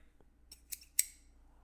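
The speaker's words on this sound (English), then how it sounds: "let me use my scissors for this one actually" Scissors snip through a small clay figure in three crisp, close metallic cuts, the last one sharpest, in an otherwise quiet room.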